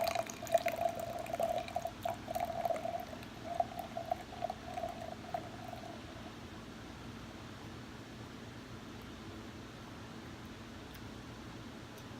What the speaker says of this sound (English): And yes, we will be hard pouring this.